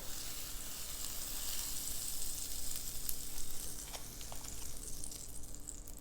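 Bread toasting in butter in a pan sizzles steadily and close up, a continuous frying hiss with faint crackles and no voices.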